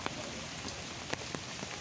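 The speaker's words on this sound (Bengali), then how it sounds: "গো বৃষ্টি আমার পিছনে, বৃষ্টি হচ্ছে।" Steady rain falls in a rural village, a continuous soft hiss with a few sharper drops tapping close by, no voices over it.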